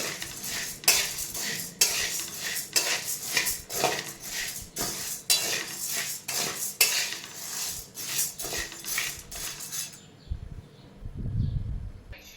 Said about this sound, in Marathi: आता मस्त लाल भाजून घे छान छान असं लालसर आपल्या शाबू भाजून घ्यायचा